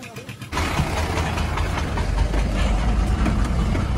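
A DJ truck's engine catches abruptly after a moment of quiet and settles into a loud, steady, rumbling run that continues without a break.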